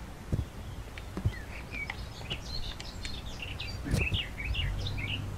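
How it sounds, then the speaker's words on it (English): Birds chirp and tweet in the Human Fall Flat video game, scattered short calls repeating at a moderate distance over a soft outdoor ambience, with no talking. "Shut up, bird."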